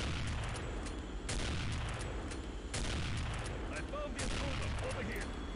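Rapid gunfire in Counter-Strike: Condition Zero Deleted Scenes, with bursts of sharp shots cracking over dense continuous game noise, several loud volleys in quick succession.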